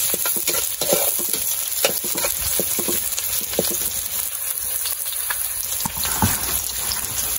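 Kangkong (water spinach) sautéing in a pan with oyster sauce and dried fish, a steady close sizzle with scraping stirs and light clatter throughout.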